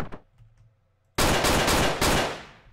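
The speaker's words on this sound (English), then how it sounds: "once you start firing a gun, everyone starts rushing at you" Gunfire in the video game Hotline Miami 2: a short shot at the start, a quiet pause, then loud rapid bursts of automatic fire lasting over a second, heard close and alone.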